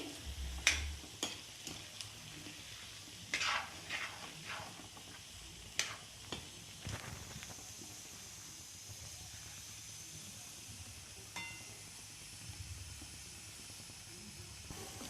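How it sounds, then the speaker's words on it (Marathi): Boiled potatoes for a dhaba-style aloo matar being sautéed in a pan, a steady soft hiss with scattered clinks and scrapes of stirring, no talking. "आता हे आपल्याला हे असंच परतून घ्यायचं आहे हे उकडून घेतलेले आहेत बटाटे"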